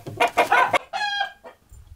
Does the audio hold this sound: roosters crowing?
yes